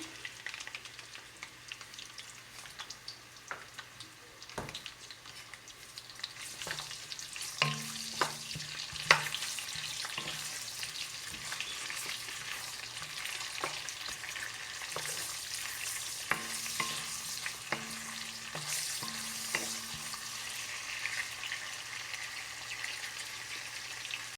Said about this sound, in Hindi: प्याज लाइट फ्राई हो गई है, यानी बिल्कुल इसको हल्की फ्राई किया है।